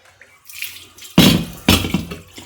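Tap water runs and splashes as a cookware utensil scrubbed with salt is rinsed clean, a faint trickle rising into two loud bursts of splashing as the item passes under the flow.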